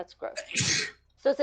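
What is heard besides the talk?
a person sneezing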